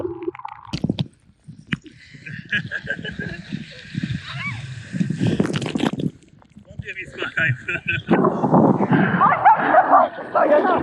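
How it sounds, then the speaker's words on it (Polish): Sea water sloshes and splashes close by at a beach in Greece while people talk and laugh, with a louder rushing surge of a breaking wave toward the end. "To są lepsze fale."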